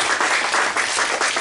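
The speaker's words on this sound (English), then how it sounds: "Can you give God a round of applause if you want to be debt free?" Congregation clapping during a church sermon, a brief, dense burst of many hands applauding at fairly loud, even level with no voice over it.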